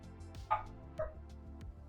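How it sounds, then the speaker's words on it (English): Pet dogs bark excitedly indoors, two short yips about half a second apart, moderately close, with a faint steady background hum during a tabletop card game. "Pardon my dogs."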